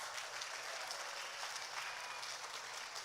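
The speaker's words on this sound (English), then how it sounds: "Can I get a big round of applause for the Radha Madhav class?" Faint, distant audience applause fills a Sunday school annual day hall at an ISKCON temple, an even, continuous wash of many hands clapping with no break.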